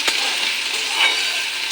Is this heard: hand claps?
no